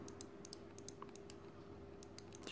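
A computer mouse button with a double-clicking fault, treated with a drop of oil, is clicked repeatedly in quick, uneven pairs of sharp ticks, close and faint over a steady low hum, with no talking.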